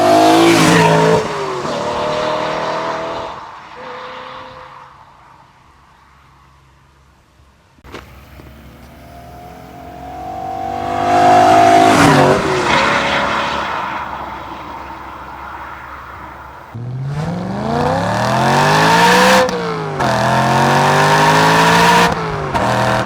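A manual BMW E90 M3 revs hard and drives, its engine sweeping up through the gears in loud rising pulls, easing off to a quiet lull mid-way before surging again with repeated sharp climbs, with no voices.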